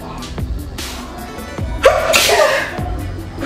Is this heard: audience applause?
no